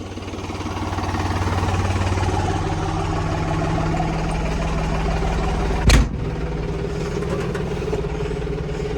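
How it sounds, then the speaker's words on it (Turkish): Loud, steady tractor engine drone with rattling heard from inside the tractor's cab, with a single sharp knock partway through. "Çok fazla ses alıyor traktörün içine."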